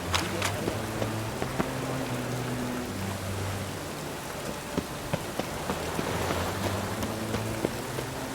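Steady rain falls in the video game The Witcher 3: Wild Hunt, a constant close patter of drops across the whole scene with soft musical tones and faint voices underneath.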